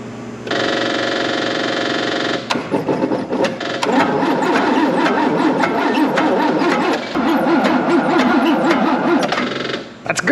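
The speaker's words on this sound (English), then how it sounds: "We're gonna see if it cranks over." A 55-year-old Land Rover 109 Series 2A, left sitting for 15 years, cranks on its starter with a steady, rhythmic whirring churn, loud and close, running continuously for several seconds with brief pauses and no clear catch.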